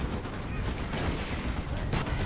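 Gunfire and explosive blasts from a Leman Russ tank shelling a Carnifex in the Dawn of War II: Retribution battle, a dense, continuous rumble of shots and impacts with overlapping battle noise.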